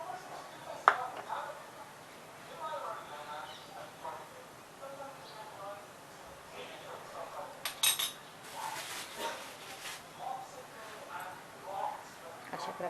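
Rice flour paste being whisked in a bowl with a utensil, light clinking and tapping strokes, soft and close, with a voice talking over much of it.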